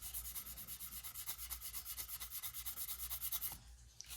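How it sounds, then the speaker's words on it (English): A plastic brush scrubs rust off a SIG Sauer SP2022 pistol in quick, rhythmic back-and-forth strokes, a soft, close rasping that stops near the end. "just hit it with a plastic brush"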